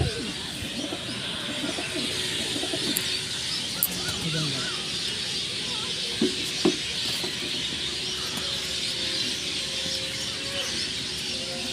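Male pigeons kept as pets cooing in a soft, continuous murmur with occasional chirps. Someone speaks over the birds.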